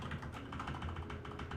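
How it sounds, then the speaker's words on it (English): Steady, rapid typing on a computer keyboard, close to the microphone, with dense continuous key clatter throughout and no talking. "sorry if my keyboard is being picked up in the mic"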